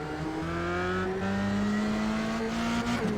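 A race car in a sim racing game climbs up through the gears around a corkscrew corner, its engine tone rising steadily between shifts, with brief tire scrub and no voice over the loud, continuous whine.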